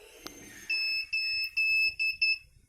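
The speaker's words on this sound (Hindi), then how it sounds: "ये देखिए बीप साउंड आया और डिस्प्ले देखिए आ गया" A Hikvision DVR gives a run of five short electronic beeps, close and clear in a quiet room, each tone high and steady, sounding as the recorder powers on after a no-display fault.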